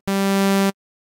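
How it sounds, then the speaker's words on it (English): A single sustained saw wave synth tone from Ableton Operator, bright and buzzy with dense even harmonics, held steadily for about two-thirds of a second and then cut off cleanly, alone with no talk. "So we'll go for either something like a saw wave, which sounds like this,"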